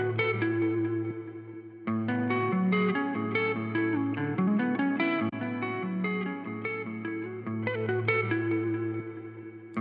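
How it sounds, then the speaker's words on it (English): A looped electric guitar phrase runs through an effects unit, its tone shifting as the reverb type is switched; steady, sustained chords with distortion and ambient tail, continuous and up close with no talking. "I can change the reverb type."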